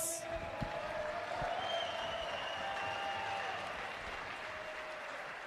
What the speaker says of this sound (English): can I get everyone to give a massive round of applause for Tyler Phillips?